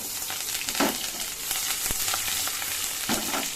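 Sliced onions and curry leaves crackle and sizzle in hot oil with fenugreek and chana dal for radish sambar, a dense close frying hiss broken by a few sharper pops and stirring sounds.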